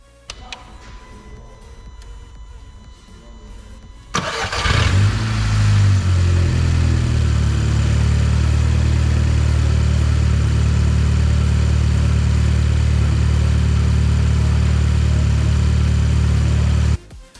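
An Audi S3 8P, recovering from a crash and engine repair, cranks over and fires up at about four seconds, then settles into a loud, steady, close-up idle that runs continuously with no talk.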